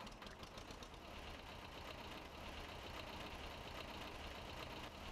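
A tractor engine in Farming Simulator 19, a T-16 hauling bales, runs in a steady, faint, low rumbling drone with no break and no one speaking.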